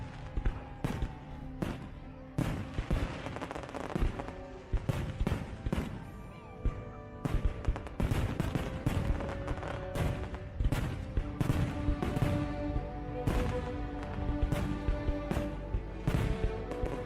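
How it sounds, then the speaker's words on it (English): Fireworks from a played video, with repeated sharp bangs and crackling bursts coming in quick, irregular volleys across the clip, fairly faint and without talk. "This is Philip Koshat's fireworks video"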